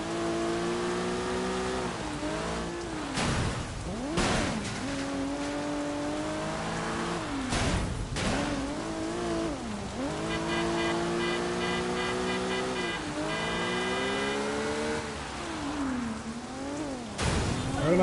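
A car in the video game Sleeping Dogs revs and races, its engine pitch climbing and dropping through repeated gear shifts over a steady hiss like rain, with no talking.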